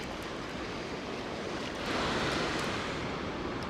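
Ocean waves washing onto the shore during a shark fishing trip make a dense, continuous roar, with wind buffeting the microphone and a slight swell partway through.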